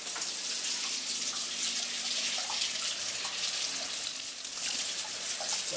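Russet potatoes are rinsed under a steady stream of running tap water, a continuous bright splashing hiss with no talk.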